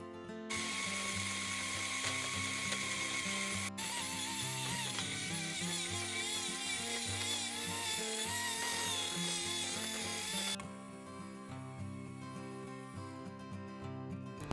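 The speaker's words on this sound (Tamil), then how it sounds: "அதையும் சேர்த்துட்டு நல்லா பீட் பண்ணி எடுக்க போகிறோம்" An electric mixer beats butter and sugar for chocolate cupcakes, a steady high whirring drone lasting about ten seconds before it cuts out, leaving a softer background hum.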